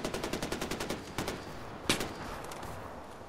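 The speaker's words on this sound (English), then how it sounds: "Who the fuck are you shooting at?" Rapid automatic rifle fire in Far Cry 4, a quick rhythmic burst of about ten shots followed by a few separate louder single shots with echoing tails, fairly distant and without talk.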